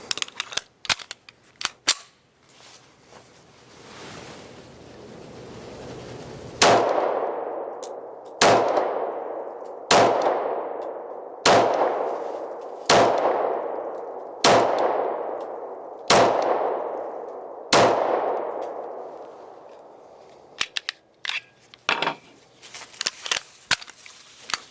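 A Sig Sauer Legion P220 pistol chambered in 10mm fires about eight sharp, evenly spaced shots, each followed by a ringing metallic clang as the ejected brass casing lands. Scattered smaller clinks come before and after the volley.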